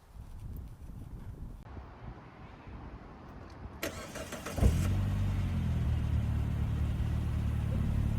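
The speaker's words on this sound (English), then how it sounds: "So here we go with a startup." A 2003 Saab 9-3 SE convertible engine cranks briefly, catches with a sharp rise in loudness, then settles into a steady, low idle rumble, heard close up with no talking.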